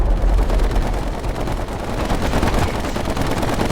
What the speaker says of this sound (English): What's this new machine gun sound